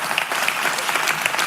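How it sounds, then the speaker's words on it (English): A studio audience at a televised debate show claps steadily, a short, dense patter of applause heard alone at moderate volume. "You must be clapping like now."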